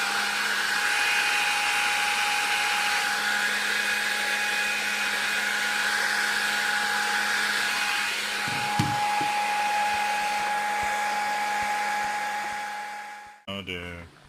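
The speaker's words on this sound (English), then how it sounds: "I'll use again the air blower." Air blower drying the mirror of a Soligor MT-800 Astro 200mm Newtonian telescope, a steady close whirring hiss with a high tonal whine that holds then winds down and stops near the end.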